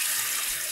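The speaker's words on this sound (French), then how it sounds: "Je rince encore une fois le réservoir." A faucet sprayer rinses the water reservoir of an automatic coffee machine during descaling, giving a steady, close hiss of spraying water with no speech.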